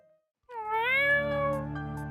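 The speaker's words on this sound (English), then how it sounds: "It's all your fault for meowing and snitching on me and Cat." A single cat's meow rises and holds, a loud close harmonic cry lasting about a second and a half, alone with no talk.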